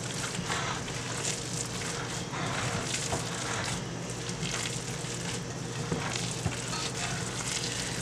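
Ground meat for meatloaf being mixed by hand from the bottom up, a steady wet, squishy churning with soft crackly texture throughout, close and continuous with no talking.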